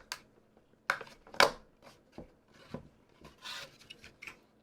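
Plastic stand brackets for a Thermaltake Tower 300 horizontal chassis pressed down and snapped into place, a few sharp clicks and rubbing scrapes close by with quiet gaps between.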